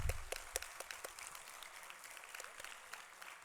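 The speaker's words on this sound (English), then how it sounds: "A big round of applause for the Nanjanad students." Youth summit audience claps for a group of students, a sparse scatter of distinct hand claps at first that settles into steady, fairly faint applause from a room, with no voices over it.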